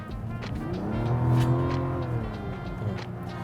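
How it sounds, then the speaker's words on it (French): A Mazda CX-90 SUV with rear-biased all-wheel drive accelerates hard, its engine rising in a steady, swelling drone that peaks in the middle and then holds strong and close, with no talking. "on va faire un test d'accélération"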